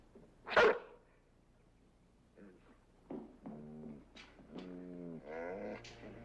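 A dog barks loudly once nearby, then gives several shorter, fainter woofs and whines over a quiet room hum.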